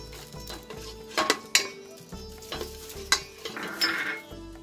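Chopped onions frying in a pan of oil for biryani-style yellow rice, with a soft sizzle under repeated metal stirring scrapes and spoon clinks against the pan.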